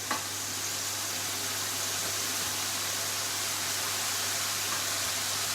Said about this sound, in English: So straight in, and you'll hear them sizzle.